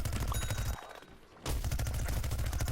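Gatling gun firing in a video game: dense, continuous rapid-fire bursts, loud and close, with a brief pause in the middle before the stream of shots resumes.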